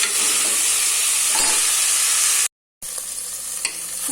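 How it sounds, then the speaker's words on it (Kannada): Spices tempering in hot oil with sambar powder and turmeric, a loud continuous sizzle and hiss with faint stirring, broken by a brief silent gap before the frying resumes. "ಒಗ್ಗರಣೆಗೆ ನಾನು ಒಂದು ಸ್ವಲ್ಪ ಸಾಂಬಾರು ಪೌಡರ್ ಸೇರಿಸ್ಕೊಂಡಿದ್ದೀನಿ"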